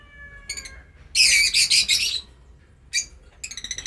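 African lovebirds kept as pets give shrill, high chirps in short bursts: a single call, then a loud rapid cluster of tweets, followed by a few more sharp calls close to the listener.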